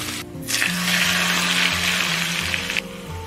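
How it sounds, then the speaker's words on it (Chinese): Very hot oil pours over lightly fried aromatics and sizzles loudly. A sharp burst of frying hiss rises and holds for a couple of seconds, then cuts off. "加入滚出的油。"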